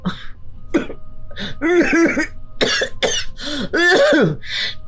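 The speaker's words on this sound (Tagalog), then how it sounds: "Tingnan mo nga sa bibig ka na humihinga tapos inuubo ka pa." A woman's repeated coughing and throat clearing, close and loud, coming in several bursts with short gaps in a quiet indoor room.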